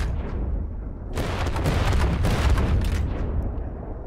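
Dense booming explosions and rapid gunfire from a video game battle fill the clip continuously, swelling louder after the first second, with no talk over it.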